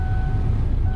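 A car engine runs rough with the AC compressor switched on, giving a steady, loud low rumble with a faint thin whine riding over it for a single second.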